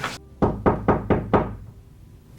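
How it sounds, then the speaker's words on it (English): Five firm knocks on a door in a quick, even sequence, close and loud, followed by a pause and the start of another knock, with no voices. "Knock, knock, knock."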